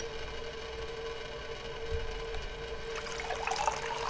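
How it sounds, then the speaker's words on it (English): Water runs steadily from a kitchen sink tap in the video game Cradle, a soft continuous trickle with a brighter splash building toward the end. "Turn on the water."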